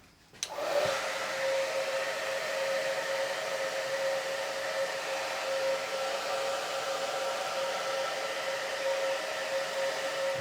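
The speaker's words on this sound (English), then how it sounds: "So we'll blast him under the hairdryer and get him back as soon as we can." A hair dryer starts with a click and blows steadily at high speed, drying a wet bird at a zoo, a continuous whooshing roar with a faint whine held throughout.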